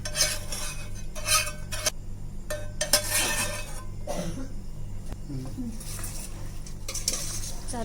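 A spoon scrapes and clinks against a pan while drumstick pickle mixture is stirred, irregular metallic knocks and scrapes over a low background hum, with a voice speaking at times.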